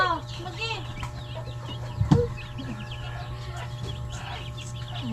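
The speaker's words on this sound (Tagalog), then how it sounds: "Nagbantay ka sa chicken, Leb?" Chicks in a broiler chicken coop, five days old, chirping and clucking softly through a steady low hum, with a brief louder bump near the middle and a voice speaking faintly in the background.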